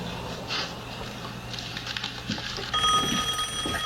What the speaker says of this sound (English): Go answer the phone if you feel so at home.